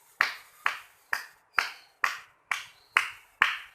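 Eight crisp hand claps from a children's Sunday school class land in a steady, even rhythm about half a second apart, close by and with no talking.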